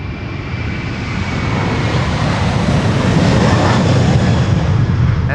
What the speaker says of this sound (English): KLM flight 535 going to Kigali.